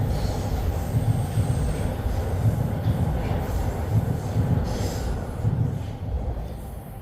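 A Toronto subway train rumbles past on the line near Bathurst Street and St. Clair, a loud, steady low roar of wheels and cars that fades slightly toward the end.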